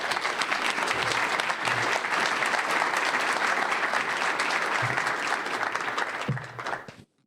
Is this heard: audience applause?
yes